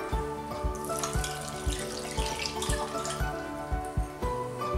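Water is poured from a container into a slow cooker holding oranges and sugar. It makes a close, gurgling stream with regular glugging pulses throughout.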